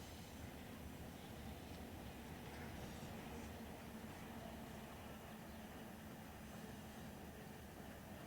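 A CSX train rolls along in the Run8 Train Simulator game, a faint, continuous low rumble of rail cars with a steady broadband hiss, distant and unchanging throughout.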